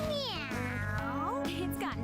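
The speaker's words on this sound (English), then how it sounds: "Aw, Mona's practically purring." Morgana, the cat character in Persona 5 Strikers, gives a drawn-out, close, loud meow with rising and falling pitch, over steady game background music.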